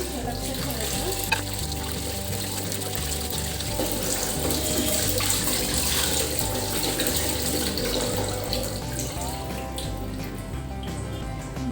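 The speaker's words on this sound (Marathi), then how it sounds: "भरपूर पाणी असे सोडायचं आणि छान असे पात्रात धुवून द्यायचं आहे" Running water pours steadily into a vessel while mackerel are washed in it, a continuous close splashing rush with faint clinks and sloshing throughout.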